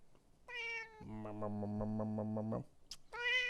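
A cat meows several times, drawn-out tonal cries close by, with a human voice imitating a meow in between.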